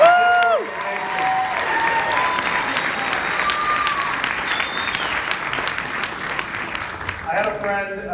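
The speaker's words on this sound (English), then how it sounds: "I want to hear a big round of applause" An audience at an Austin organization's evening event breaks into a big round of applause that stays dense and steady for about eight seconds, with voices rising over it at the start and end.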